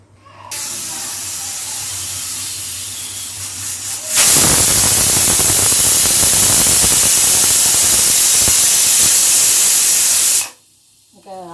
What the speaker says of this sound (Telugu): ఒక విజిలే వచ్చింది గ్యాస్ ఆఫ్ చేసేసిన